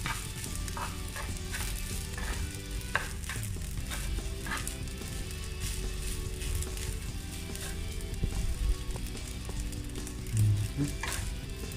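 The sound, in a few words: food sizzling while being sautéed in a pan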